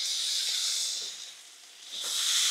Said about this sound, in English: You want to hit them with that heat, that sizzle.